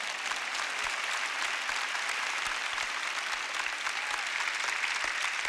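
Audience clapping at a church sermon, a steady wash of applause from a large crowd, moderately distant and even throughout with no talking.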